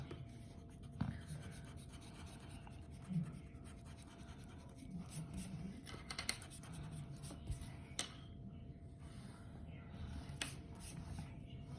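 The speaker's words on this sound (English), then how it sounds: "you want to draw with pencil so that you can erase your lines" Pencil drawing on paper, sketching a vase for a Van Gogh Sunflowers study: a faint, continuous scratchy rubbing of graphite across the sheet, with a few soft taps and bumps in a quiet room.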